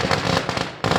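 Firecrackers bursting at a crowded public gathering, a loud rapid crackling barrage of dense pops with a brief break before another burst.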